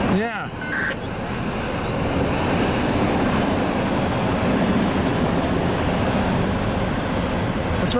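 A train rolls past on the eastbound track, a steady, loud rumble of wheels and cars that holds for the whole stretch, with a brief higher whine near the start.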